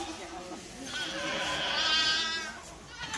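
A healthy newborn goat kid, just delivered by caesarean on a farm, bleats in a thin, wavering cry that swells and fades over a few seconds amid background farm noise.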